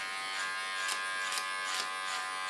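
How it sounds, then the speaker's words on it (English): Electric hair clipper trimming a red beard, a steady close buzz running alone throughout with slight rises in intensity as the blades pass through the hair. "I put it on the sharpest position, my clipper, comb the hair up"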